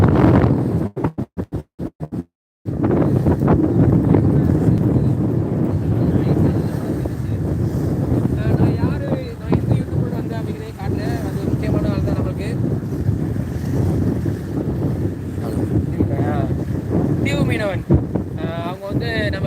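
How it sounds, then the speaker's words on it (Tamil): Strong wind buffets the microphone at the seashore during the rainy season, with surf roaring underneath in a constant loud rush; a voice speaks partway through. "இந்த பகுதியில் வாங்க எப்படி காற்று அடிக்குது"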